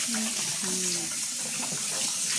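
Tap water runs steadily while a wet-batter grinder is rinsed out at a sink, a close, continuous splashing wash with faint tonal clinks and a distant voice in the background.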